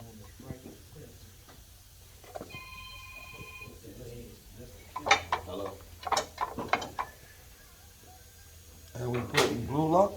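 A ratchet tightening bolts on a Harley-Davidson primary cover, with several bursts of quick clicking, a short metallic whine and handling clatter, while people talk nearby.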